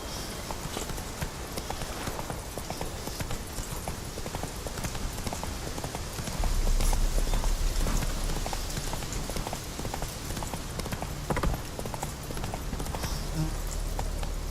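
Hooves of the horse Roach clip-clopping in the video game The Witcher 3, a steady rhythmic trot beneath ambient outdoor noise, with a brief low rumble midway.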